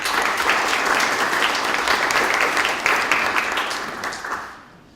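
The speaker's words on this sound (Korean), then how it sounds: "박수로 맞이해주시기 바랍니다." An audience at a Korean National Assembly news anniversary ceremony applauds as a newly appointed editorial writer is introduced; dense, even clapping holds steady, then fades out in the final second.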